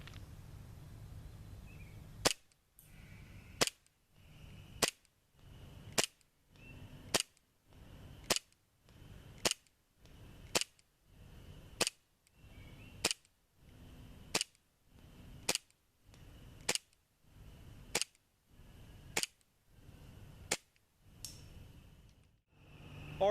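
A BlackWater BW1911 R2 CO2 blowback airsoft pistol fires sixteen evenly spaced single shots downrange, each a sharp crack with a short mechanical clack, recorded close with quiet pauses between.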